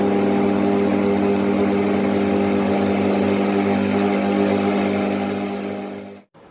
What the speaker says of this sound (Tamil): நம்ம வந்து பிரேக் விட்டு அடிச்சு, நம்ம வந்து 3 வைக்கக்கூடாது, 1 தான் வச்சு பிரேக் விட்டு நம்ம அடிச்சு எடுத்துக்கணும்.